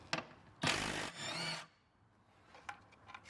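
A wrench works a nut loose while a Ford C-Max 12-volt battery is replaced: a short, close scraping and ratcheting burst of about a second, followed by quiet with a few faint clicks.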